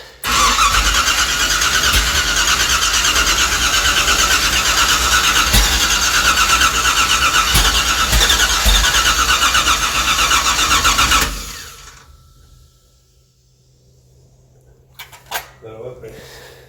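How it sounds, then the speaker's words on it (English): A Chevrolet 383 V8 car engine cranks on its starter motor and catches into a loud, rough running roar for about eleven seconds, then cuts off. Voices talk nearby, and a few faint knocks follow in the quiet. "Something going on with that starter motor."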